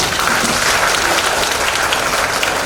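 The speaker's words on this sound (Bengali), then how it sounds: "একটা জোরে হাততালি" An audience gives a steady burst of loud applause for the chief guest's address, dense continuous clapping close by throughout.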